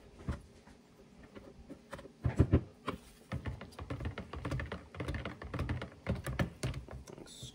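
Activated charcoal soap being scraped out of a container, heard as a close series of quick scraping clicks and knocks in irregular bursts, with no talking.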